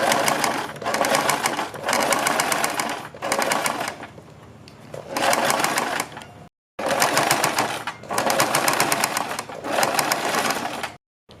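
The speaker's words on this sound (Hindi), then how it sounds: "हम यहाँ पर अपनी पट्टी के किनारे पर यहाँ से यहाँ तक थोड़े नीचे तक एक सिलाई लगाएंगे" A sewing machine stitches along the edge of a fabric neck strip for a kurti top, running in steady rapid bursts of a few seconds each, separated by short pauses, loud and close.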